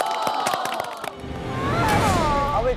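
Studio audience on a Korean variety show cheers and whoops, the noise swelling in the second half after a few sharp sounds, while voices call out over it.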